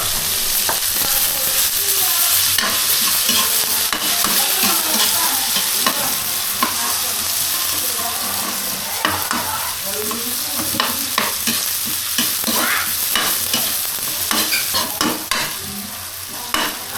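Garlic and onion sauté in a pan for a Filipino pork-and-tomato dish, giving a steady, loud, close sizzle with scraping stirs throughout and no voices.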